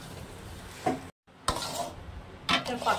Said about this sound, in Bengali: ভালো করে মিশিয়ে নেব চিনিটা